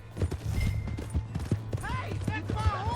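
Horse hooves in the western game Red Dead Redemption 2: steady clip-clopping beats at an even gallop-like rhythm, close by, with calls and voices layered over the top.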